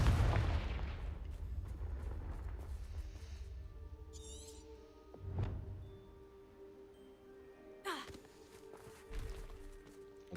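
A Confringo blasting spell erupts in the Hogwarts Legacy game with a loud booming burst at the start, then a deeper thump midway and a later flare among faint magical chimes, with no talking.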